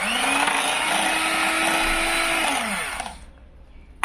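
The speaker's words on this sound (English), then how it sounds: "I'll just go ahead and start whipping this base" An electric hand mixer whips a skincare base before oils are added, giving a steady, loud whirring drone that holds for about three seconds, then winds down and stops into near silence.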